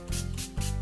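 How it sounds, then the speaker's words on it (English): A small spray bottle sprays a glycerin and water solution onto card. Three quick, close, hissing pumps come in a steady rhythm, with no voices. "So in a little spray bottle, and then just spray"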